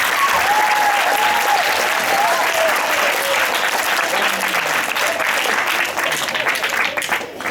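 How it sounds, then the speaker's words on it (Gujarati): An audience applauds warmly after a Hanuman Chalisa performance at a school assembly, the clapping dense and steady throughout, a voice faintly over it, tapering slightly at the close. "આ સુંદર કૃતિ માટે જોરદાર તાળીઓ થઈ જાય"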